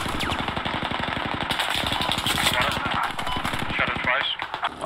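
Rapid automatic gunfire bursts in the military shooter game Squad, loud and close, firing in fast rhythmic strings that pause briefly and resume, with game ambience and radio chatter underneath.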